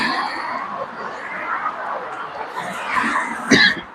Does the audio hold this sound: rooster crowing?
no